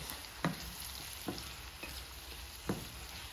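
Eggs and vegetables mixed in a pan for steak and vegetable burritos: a quiet background sizzle broken by three distinct spatula knocks and scrapes at uneven intervals.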